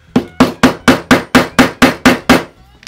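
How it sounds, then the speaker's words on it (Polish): Rubber mallet striking snap fasteners by hand on a leather sheath, nine loud, evenly spaced, close thwacks in steady rhythm, then a brief pause, with no talk. "Ten młotek gumowy też jest fajniejszy, mam wrażenie."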